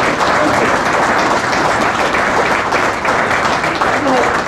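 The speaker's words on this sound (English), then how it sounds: "You can clap now." Audience applause at a Legion joint dinner with a general and a deputy minister: dense, sustained clapping throughout, loud and close, with some voices mixed in.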